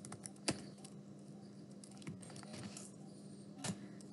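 A computer keyboard is tapped in short bursts of light key clicks while a command is typed, with a few louder presses between quieter strokes.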